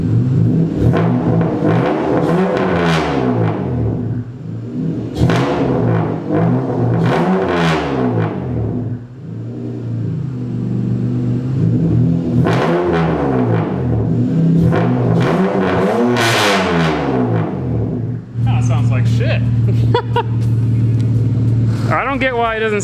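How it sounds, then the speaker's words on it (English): A turbocharged V6 Honda Accord with its exhaust cutout open revs repeatedly, loud and close, in rising and falling sweeps throughout, with a brief hiss near the end. "So this is essentially what it's gonna sound like with the exhaust cutout open."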